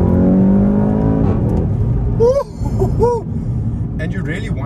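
A Volkswagen Golf TCR race car engine revs hard toward the rev limiter, pitch climbing in rising sweeps before dropping off, loud and close, with brief shifts between pulls.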